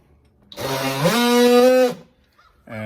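An oscillating power tool cuts across the centre console of a 1969 Charger, a loud steady buzzing whine lasting about a second and a half, then cutting off and starting again.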